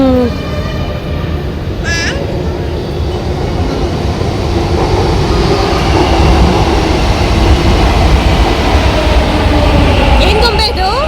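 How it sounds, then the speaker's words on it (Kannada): A metro train rumbles loudly and steadily at Banashankari metro station, with a high squeal near the start and another near the end, and faint voices in the background. "ಸೊ ಇವಾಗ ನಾವು ಬನಶಂಕರಿ ಮೆಟ್ರೋ ಸ್ಟೇಷನ್ ರೀಚ್ ಆಗಿದ್ದೀವಿ"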